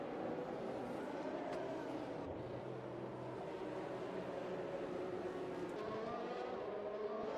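Race cars in an online league race at Baku threading through the narrow castle section, engines droning and shifting pitch as several cars pass at a distance under faint background commentary.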